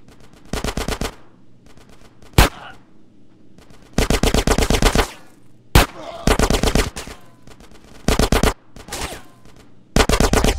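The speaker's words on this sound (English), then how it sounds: "Get some suppressing fire in there!" Gunfire in a Grand Theft Auto: San Andreas shootout, heard as loud rapid bursts of automatic fire repeating every second or two, punctuated by a couple of sharp single shots, with short quiet gaps between bursts.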